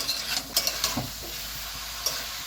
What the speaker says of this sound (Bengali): মশলাটা এখন ভালো করে নাড়িয়ে চাড়িয়ে দেবো।